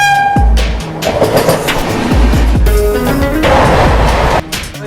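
The Mithila Express, an Indian passenger train, runs loudly close by with a constant heavy rumble, rhythmic wheel clatter and passing tonal whines, and no one talking.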